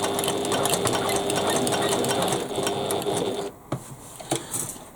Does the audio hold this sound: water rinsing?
no